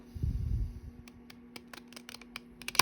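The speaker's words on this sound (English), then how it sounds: "We'll be cutting this with the glue scissors." A few quick snips of glue scissors trimming paper for a card and small paper crinkles sound close by after a brief rustle, with a faint steady hum underneath.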